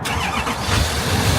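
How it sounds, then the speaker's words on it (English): A Chevy Silverado pickup (2007–2013 generation) starting after sitting unused for about a month: the engine catches and settles into a loud, rumbling idle with a strong low-end roar, close by and steady throughout. "Let's go ahead and see if it starts up."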